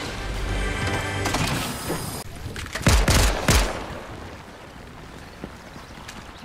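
Video game gunfire in Fortnite from infantry rifles and six-shooter revolvers, a dense rattling fusillade easing off into a few loud sharp shots, then fading into quieter background game noise.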